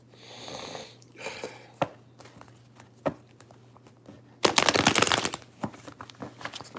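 Soft riffling and tapping of tarot cards being shuffled by hand, in several short bursts, ending with a louder, longer flurry of shuffling.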